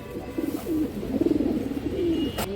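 Old silver line pigeon cooing close by, a run of soft throaty coos in a rippling rhythm over low background noise, ending with a brief rustle.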